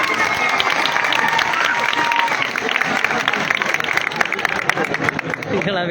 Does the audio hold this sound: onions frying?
no